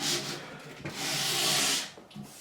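A Warwick Corvette Double Buck bass neck is sanded by hand with sandpaper on a sanding block, giving close, raspy rubbing strokes. Two longer passes are broken by short pauses.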